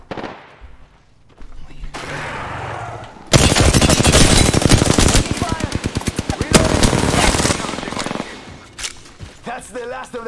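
Loud, rapid automatic gunfire in a battle royale video game crackles in sustained bursts through the middle, with a player talking faintly before and after.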